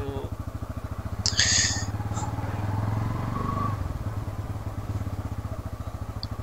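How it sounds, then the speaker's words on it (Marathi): A cold-started motorcycle idles and pulls away for a Sunday ride from Mumbai toward Lonavala, its steady close engine throb rising briefly as it sets off, with a short clatter early on and no speech. "बाईक तर कोल्ड स्टार्ट आपल्या ऑलरेडी झाली आहे मागाशीच"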